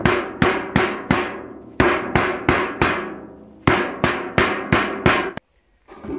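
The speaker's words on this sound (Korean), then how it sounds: "이거를 두들겨서 이렇게 두들겨서 펴주면 돼요" A tin can being hammered flat struck in a series of about a dozen sharp, ringing metallic blows at an uneven rhythm, each decaying quickly, with a brief pause near the end.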